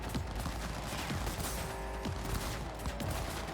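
Rapid bursts of gunfire from Cyberpunk 2077, a dense fusillade of overlapping shots crackling continuously and loudly over a busy game soundscape with no speech.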